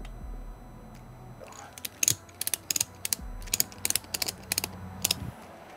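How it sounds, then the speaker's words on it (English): A hand ratchet is cranked in quick clicking strokes while pulling an abandoned electric car, with sharp close clicks in irregular bursts and a low mechanical hum underneath. "Are we going to try to ratchet this thing?"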